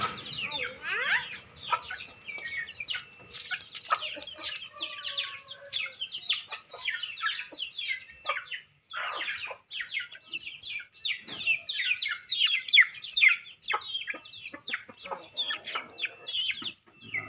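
A busy flock of chickens being fed clucks and squawks, overlapping calls and chirps continuing steadily with brief pauses, fairly close.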